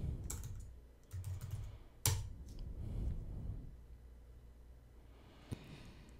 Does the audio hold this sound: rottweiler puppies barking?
no